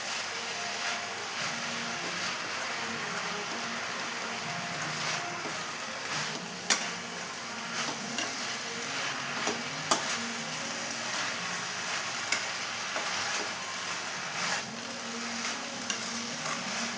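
Drumstick leaves (murungai keerai) with salt are stirred in a pan, a steady sizzle with scraping spoon strokes and occasional sharp clinks on the pan, continuous and close, with no voices.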